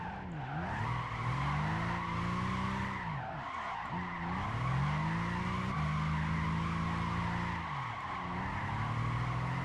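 A Nissan GT-R drifting in Gran Turismo 5, tires squealing in long sustained skids over a droning engine, with several sweeping pitch dips as the car transitions between slides.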